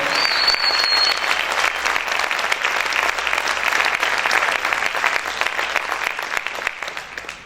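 A church congregation bursts into sustained, dense applause that stays loud and steady for several seconds before gradually thinning out, with no voices standing out.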